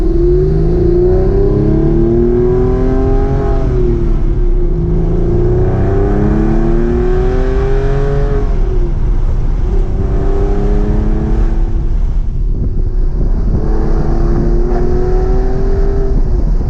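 A 2005 Porsche Carrera 4S engine with a Fabspeed exhaust revs and accelerates repeatedly, rising through gears in loud sweeping pulls with short dips between, heard from inside the car.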